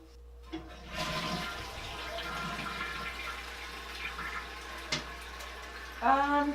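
A toilet flushes after its lever is pulled, a steady rushing wash of water lasting several seconds, then a refill gurgle near the end.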